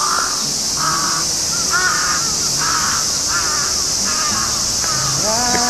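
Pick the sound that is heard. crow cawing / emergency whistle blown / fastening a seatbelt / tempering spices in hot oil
crow cawing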